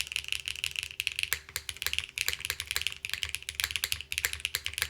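Fast, clicky typing on a 65% mechanical keyboard with HMX TT Red switches, with bright, crisp keystrokes in an uneven, continuous rhythm, close and fairly quiet, with no voices.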